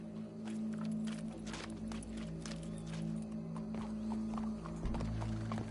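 Horse hooves clip-clopping in the Red Dead Redemption 2 game, faint steady steps under a low humming game soundscape with a few sharper clicks, no clear whinny and no talk.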